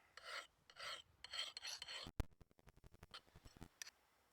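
A file rasps against the blade of a Hultafors Agdor axe in close, rhythmic strokes, with a bright metallic ring partway through and quicker, lighter scrapes afterward; no one speaks.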